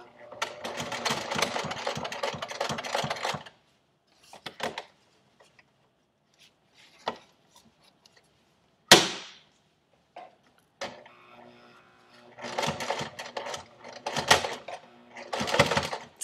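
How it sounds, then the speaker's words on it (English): A sewing machine stitching through several layers of fabric while an umbrella tote is made, heard as rapid mechanical chattering bursts that stop and start with quiet gaps between, close to the mic. "It's a little bit harder for the machine to sew through a couple of layers of fabric, so you might have to be patient with it."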